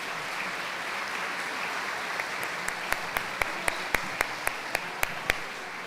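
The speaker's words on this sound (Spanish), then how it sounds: "En este momento le solicito un fuerte aplauso para la hermana Melinda Roper" Audience applause for Sister Melinda Roper at an evening gathering, a steady bed of clapping with one person's loud, regular claps ringing out on top in the later half.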